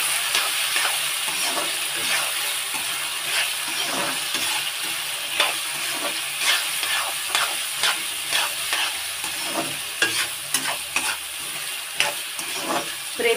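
Onions and sprouted seeds are stirred and fried in a pan: a continuous sizzle under repeated scraping stirs that grow more frequent and sharper toward the end, close and fairly loud.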